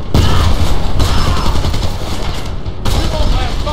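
Heavy gunfire and explosions fill a battle in the video game Homefront, dense overlapping rifle bursts and booms, loud and close for several seconds, with brief dips between volleys.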